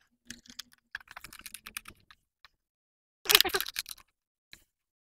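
Plastic clips on an aquarium canister filter are snapped shut and tightened by hand, making a run of small, close clicks and ticks. A denser burst of clatter comes in the middle.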